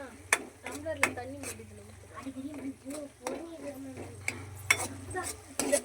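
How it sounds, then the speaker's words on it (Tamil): Food in a pot is stirred with repeated sharp scraping clicks at an uneven rhythm, mixed with steady talking close by. "இது நல்லா கொஞ்ச நேரம் வந்து கலக்கினே இருக்கணும்."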